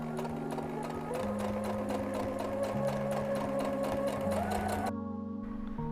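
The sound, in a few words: sewing machine stitching buttonholes on fabric e-reader cover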